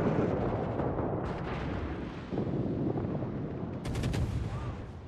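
Ship guns fire in a co-op naval game with Jervis and Sims, a dense, rumbling barrage of booming shots and crackling blasts that stays loud and continuous throughout.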